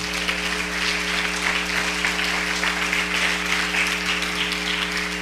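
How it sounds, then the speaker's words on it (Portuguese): A church congregation applauds during a sermon, a steady wash of many hands clapping throughout, with a low organ or keyboard drone sustained beneath it and no talking. "Eu queria que você aplaudisse essa palavra."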